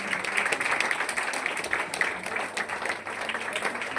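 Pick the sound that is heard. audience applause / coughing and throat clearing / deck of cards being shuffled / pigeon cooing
audience applause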